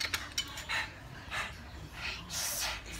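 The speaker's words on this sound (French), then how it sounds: "Il y a les chiens aussi qui sont là." Dogs pant in quick, breathy bursts close by, repeating irregularly against a quiet indoor background.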